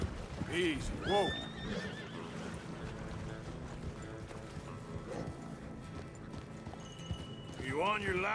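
A horse in the Red Dead Redemption 2 video game gives a couple of shrill whinnies near the start and another at the end, with clopping hooves and a voice urging it on throughout.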